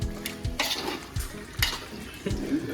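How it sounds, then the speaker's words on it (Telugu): Chicken being stirred with salt, turmeric and ginger paste in a pot, with repeated scraping strokes of a spoon against metal at a steady rhythm, plus soft sizzling and clinks close by, with no voice. "అవి పసుపు ఉప్పు అల్లం వేసుకొని బాగా కలుపుకోవాలి"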